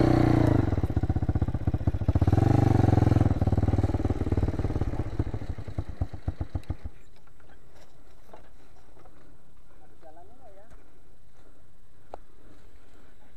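A motorcycle stuck after sliding off a trail revs loudly with rattling clatter for several seconds, then drops away to a quiet idle and faint background noise.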